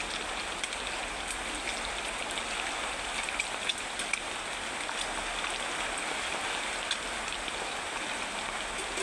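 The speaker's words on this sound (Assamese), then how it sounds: "এতিয়া প্ৰথম মই ধুনীয়াকৈ ডিমকেইডোখৰ ফ্ৰাই কৰি লওঁ" Eggs fry in a pan with a continuous, even sizzle that stays steady at a moderate level throughout, with no voices.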